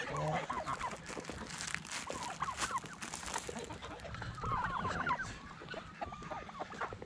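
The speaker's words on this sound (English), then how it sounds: "So the guineas chasing chickens." Guinea fowl squawk and chatter in a busy, agitated flurry while chickens cluck and call around them, with steady outdoor background noise.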